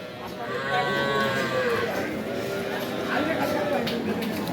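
A cow moos repeatedly in long, loud, low calls at a wet, rainy cattle market where cows and calves are bought and sold, with people talking nearby.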